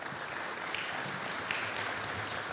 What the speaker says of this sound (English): That should be applauded